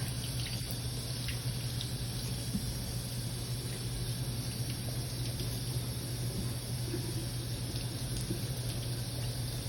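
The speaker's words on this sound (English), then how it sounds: "So I'm just going to wash them off." Tap water runs steadily into a sink while vegetables are washed under it, a continuous close hiss with no breaks and no speech.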